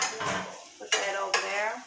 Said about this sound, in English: I'm putting my shrimp in there, cooking them.